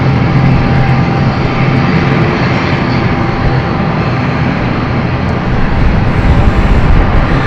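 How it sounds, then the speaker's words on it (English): An Aurigny Air Services airliner departs London City Airport, its engines producing a loud, steady roar that fills the whole stretch without fading and with no voices over it. "Aurigny flight, Aurigny Air Services has just departed."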